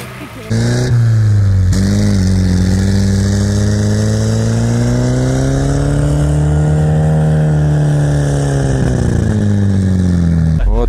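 A UAZ Hunter off-road vehicle on a rough track to a spring revs hard and sustained, its engine note rising and wavering loudly up close for several seconds as it strains to push through.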